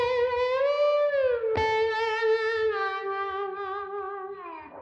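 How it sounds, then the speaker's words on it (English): Electric guitar played with a slide sustains long gliding notes with wavering vibrato and one sharp pick attack midway. Up close and on its own, with no talking. "if you do have a slide, it sounds like this"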